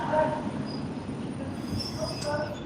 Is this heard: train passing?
yes